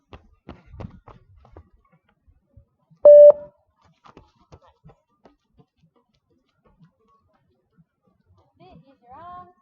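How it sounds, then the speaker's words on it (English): A single loud electronic beep from a fitness beep-test recording sounds once partway through, surrounded by quiet taps, shuffles and faint voices. "Can you hear the beep all right?"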